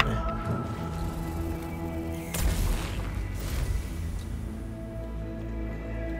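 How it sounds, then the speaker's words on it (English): A secondary cannon fires in the 2018 video game Mechanicus, giving a heavy booming blast with a rumbling, crackling tail over a constant low game drone, followed by a second, softer burst. "Fire secondary cannon."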